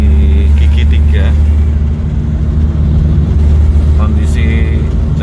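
A 1981 Toyota Corona runs in third gear, its engine droning loud and steady from inside the cabin with road rumble throughout.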